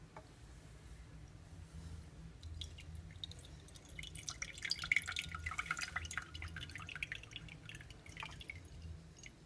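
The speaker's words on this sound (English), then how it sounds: "Just try to pour out and pour off some of the water." Water poured off through a Buchner funnel into a beaker in a lab, a quiet run of dripping and trickling that builds in the middle and fades, with no talk.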